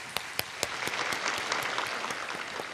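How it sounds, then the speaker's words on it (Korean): A church congregation claps in thanks after a choir's hymn at an early-morning prayer service, a dense, steady round of applause with a few sharp claps standing out near the start. "기쁨 성가대 귀한 찬양 다시 한번 감사의 박수 드리겠습니다"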